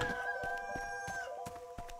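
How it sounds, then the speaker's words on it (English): A rooster crows in the video game Ikonei Island: one drawn-out, steady call lasting over a second, heard alone against faint rhythmic ambient game sounds. "How come you can always hear the rooster but never see it?"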